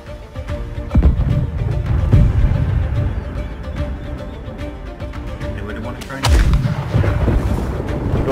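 Ship cannons loaded with grapeshot fire in the Blackwake naval game, heavy booming blasts around one, two and six seconds with rumbling tails, while players talk over the battle.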